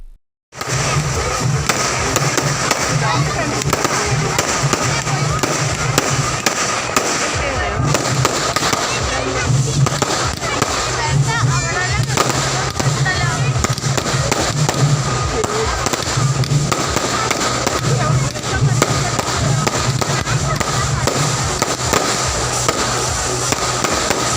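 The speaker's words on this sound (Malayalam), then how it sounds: "വെടിക്കെട്ടുമുണ്ടായിരുന്നു." Fireworks burst at a Vishu Vela temple festival in Kottayi, Ottapalam, Kerala: a loud, dense, continuous barrage of crackling explosions that runs steadily for about 24 seconds with no pause.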